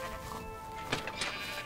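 A Minecraft sheep bleats in two short calls amid low game ambience and faint background music, fairly close and moderately loud.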